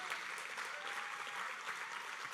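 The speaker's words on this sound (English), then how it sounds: "Let's give Kim another round of applause." An audience at a truck line's Driver of the Year awards ceremony claps for a winning driver, producing steady, dense applause throughout with no pauses.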